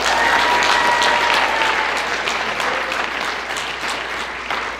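Loud, sustained applause from an audience at a school football senior signing day, a dense wash of clapping that fades slightly toward the end.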